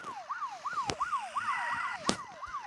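In a video game, a police car siren wails in fast, repeating up-and-down sweeps during a chase, steady and fairly faint, with two sharp clicks over it.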